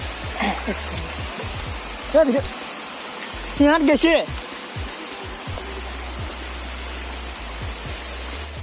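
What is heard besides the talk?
heavy rain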